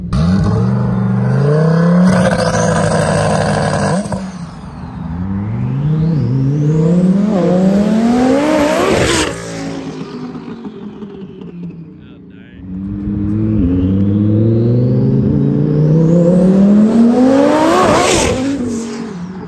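A 1500 hp turbocharged Lamborghini Huracan roars close by, its engine revving hard and climbing through gears, then fades before another loud pass winds up again.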